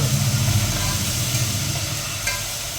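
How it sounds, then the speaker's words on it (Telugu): Mutton biryani ingredients frying and being stirred in a pressure cooker, a steady close sizzle with scraping stirs throughout, no talking. "ఇది బాగా ఫ్రై చేసుకోవాలి"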